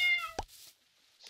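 A cat in a modded survival video game gives one short, clear meow, followed by a faint softer sound; no talk.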